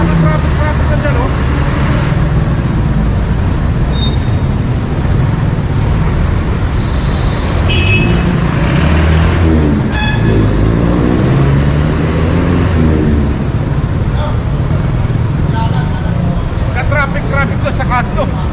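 Constant loud roadway noise at a busy street corner with newly laid asphalt, heavy engines and passing vehicles rumbling nonstop, with a few horn-like tones and people talking over it.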